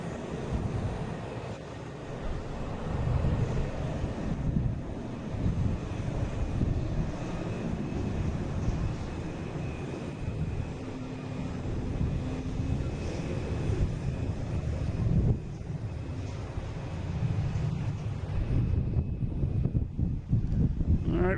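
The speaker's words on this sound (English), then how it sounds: "we got Delta taking off at the Fort Lauderdale 737" Delta Boeing 737 taking off at Fort Lauderdale, a long continuous engine roar building and holding at moderate distance, with wind buffeting the microphone and no voices.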